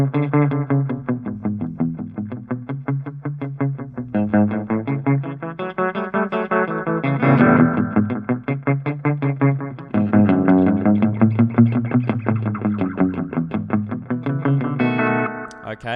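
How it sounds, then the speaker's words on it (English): An electric guitar played in a rockabilly style through a long delay effect, with quick picked notes and their echoes blurring together into a continuous, slightly distorted phrase. "that's a really long delay"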